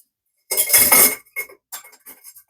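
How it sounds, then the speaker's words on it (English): A metal cocktail strainer clatters as it is picked up among bar tools and pots, one loud jangling burst followed by a few quieter metallic clinks. "Grabbing a strainer."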